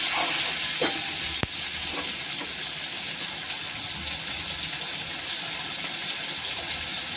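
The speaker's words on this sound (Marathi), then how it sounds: "तेल सुटेपर्यंत भाजा. तर मसाल्याला चांगलं तेल सुटायला पाहिजे. मग भाजून घ्या." Masala roasting in oil in a pan while cooking mushroom masala, a steady close hissing sizzle broken by a couple of sharp clicks of the stirring spoon near the start, with no talking.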